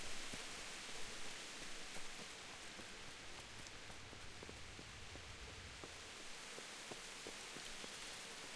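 Steady, dense rainfall in the medieval video game Kingdom Come Deliverance, a continuous hiss of drops on surfaces with faint scattered ticks, unbroken for the whole stretch.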